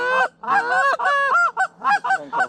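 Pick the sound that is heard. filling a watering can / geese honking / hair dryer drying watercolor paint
geese honking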